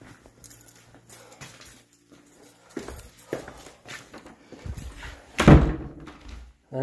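An office door in a house under repair is opened and closed, with soft handling noises and footsteps leading up to a solid thud as it shuts close by.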